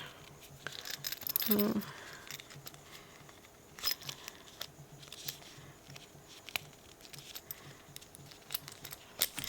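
A bunch of keys with a bell charm hangs from a handbag and jangles in a brief metallic burst early on, followed by soft intermittent clinks and handling rustles in a quiet room.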